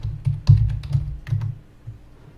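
Typing on a computer keyboard while setting up Visual Studio Express 2013 for Unity 4.6, a short run of close, irregular key clicks with a few louder strokes, no talking.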